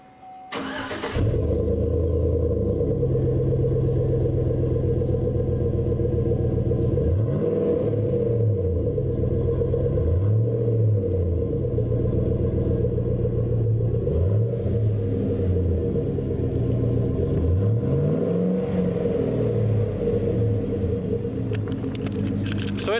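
A car fitted with a Gibson aftermarket exhaust cranks and fires up from a cold start, then settles into a steady, deep rumbling idle that carries on loudly throughout.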